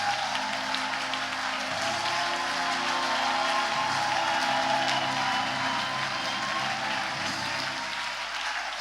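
A church congregation applauds during a worship service, a dense steady wash of clapping that holds loud and even throughout, with crowd murmur underneath and no pauses.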